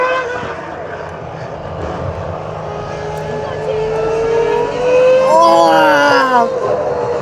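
A V10-era Formula 1 car races past on Pembrey Circuit, its high-pitched engine wail rising and sweeping louder as it approaches and passes, with spectators talking over the background roar.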